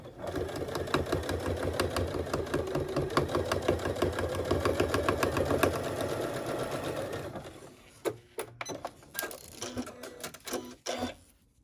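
A sewing machine fitted with a quarter-inch foot stitches a zipper to the lining and outer fabric of a heart-shaped pouch. It runs in a steady close, whirring, rapid stitching run for about seven seconds, then stops, followed by handling clicks and rustles.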